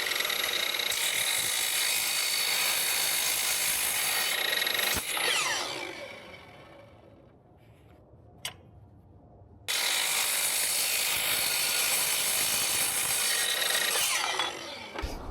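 A high-RPM wood-cutting power saw slicing through aluminum tubing in a small workshop, a loud sustained metallic whine and grind that cuts out midway, leaving a quiet gap with a single knock, then screams again at full volume.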